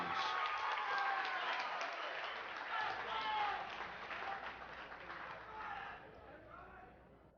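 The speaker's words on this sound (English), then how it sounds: "can I get a big round of applause for the first bout of the evening to go the distance" Crowd applause and cheering at a mixed martial arts event after a three-round bout goes to decision, a noisy sustained roar that slowly fades, mixed with crowd voices and shouting.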